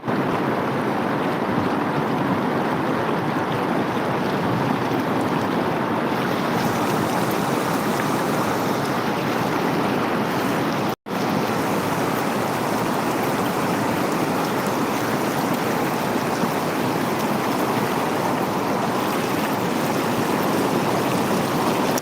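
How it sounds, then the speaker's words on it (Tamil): Floodwater rushes through the Sevveri stream beneath a bridge near Tittakudi, a constant heavy roar of fast-moving water mixed with wind buffeting, continuous apart from a split-second dropout. "அந்த அளவுக்கு இங்கே இன்னைக்கு தண்ணீர் வெள்ளங்கள்லாம் பயங்கரமாக ஓடிட்டுருக்கு"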